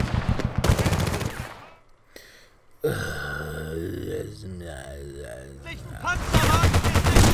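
Gunfire while driving in Battlefield: Bad Company 2 comes as rapid, dense bursts of automatic fire at the start and again at the end, with a quieter vehicle passage between and someone talking over parts of it.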